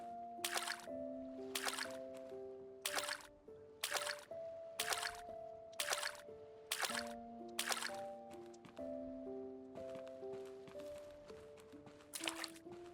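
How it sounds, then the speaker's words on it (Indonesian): Crops are watered in Old Market Simulator, a farming video game, with repeated splashy sprinkling bursts at a steady rhythm over soft background game music. "Kita bisa refill, kita siram-siramin"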